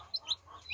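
Newly hatched chicks give a few thin, high peeps close by over a faint low background.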